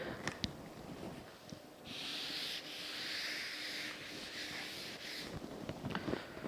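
An eraser rubs writing off a board in a classroom lecture, giving a steady scraping wipe of several seconds with a few brief strokes around it, close and moderately loud with no talk.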